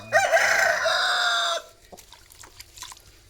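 A nine-to-ten-month-old chicken gives a loud, close crow lasting about a second and a half, followed by a few quieter clucks and scratchy rustling.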